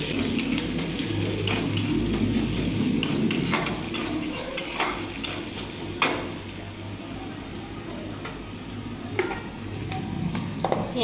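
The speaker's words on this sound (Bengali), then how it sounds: "মাছটা ভাজা হতে থাকবে।" Fish frying in oil in a pan seasoned with whole spices and a little sugar, a steady close sizzle running throughout while a utensil scrapes and clinks against the pan in scattered strokes.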